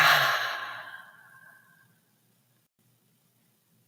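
A single deep exhale during a breathing exercise, a soft breathy rush that starts strong and fades away over about two seconds, close and alone, followed by near silence.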